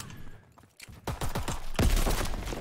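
Shotgun fire in a Call of Duty match comes as a rapid, loud volley of close shots following a brief lull. The blasts overlap into a dense burst of gunfire.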